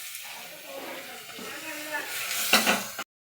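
Chopped tomatoes fry and hiss in a pan while being stirred, a soft continuous sizzle with scraping movements that swells briefly near the end before cutting off.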